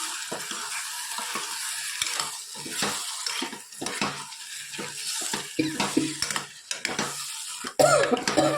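Potato curry being stirred in a pan, with a run of irregular scraping, clattering stirs over a soft sizzle, close and moderately loud, with a sharper knock near the end.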